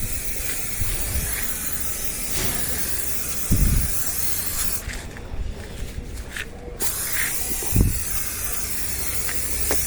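Rat repellent aerosol sprayed onto car wiring under the hood, a steady close hiss running throughout, broken by a few brief thumps.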